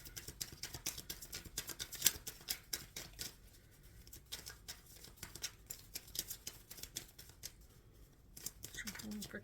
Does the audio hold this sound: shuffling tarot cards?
yes